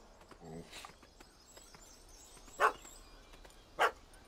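A dog in Witcher 3 barks at a cat, two sharp, fairly loud barks spaced about a second apart over a quiet ambient game background, with a faint yip earlier on.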